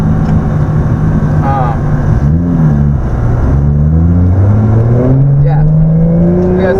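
A 700hp Toyota SC300 engine idles and revs up close, with rising and falling pitch sweeps over a steady loud rumble while someone talks over it.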